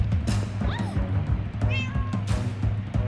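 A cat meows several times in the video game Minecraft Story Mode, short rising and falling cries over a low steady game soundtrack.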